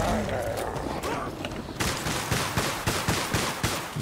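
Gunfire from the video game Solstice Chronicles: MIA, a regular series of sharp shotgun-like blasts firing in steady rhythm over game ambience, moderately loud.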